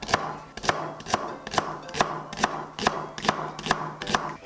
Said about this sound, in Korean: 먼저 대파 10cm 정도 송송 썰어주세요.